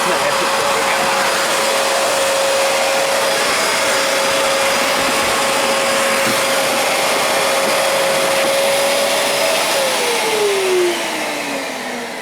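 Fantom Cyclone XT vacuum cleaner running with its hose, a loud steady close whine and rushing airflow throughout, its pitch dropping near the end as the motor begins to wind down.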